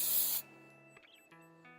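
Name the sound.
hairspray being sprayed, Monat Studio One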